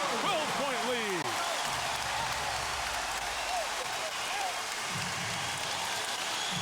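A dense, steady roar of a basketball arena crowd cheering and celebrating during an NBA playoff game between the Phoenix Suns and Dallas Mavericks, with sneaker squeaks near the start and an announcer talking over it.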